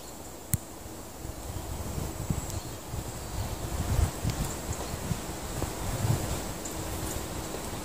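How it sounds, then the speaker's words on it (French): Wind gusting through an autumn vegetable garden during garlic planting, a steady rushing roar with low buffeting rumbles on the microphone and a few faint clicks, no voices. "Alors désolé pour le bruit, en ce moment on a pas mal de vent."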